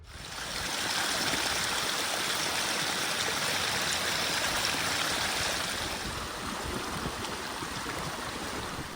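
Mountain stream water rushing steadily nearby on a tall Irish mountain, a dense, continuous broadband roar that swells in after the first second and holds without a break.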